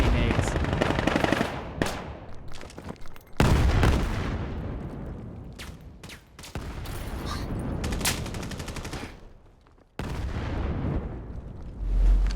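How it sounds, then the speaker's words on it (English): Grenade explosions and gunfire in the video game Vail, several sharp booms and bursts of rapid shooting in separate chunks, loud and close, with occasional speech mixed in. "So many nades"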